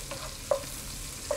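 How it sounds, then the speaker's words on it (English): Bacon frying in a pan gives a soft, steady sizzle with a few faint pops and stirring scrapes, heard alone at a modest level. "Nothing like frying bacon."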